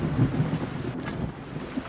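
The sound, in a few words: rain and thunderstorm in the video game Wartales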